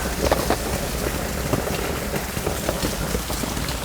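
Rain pours steadily at a fishing spot under a bridge, a dense, continuous hiss of drops with scattered louder taps and spatters nearby, heard alone without talking.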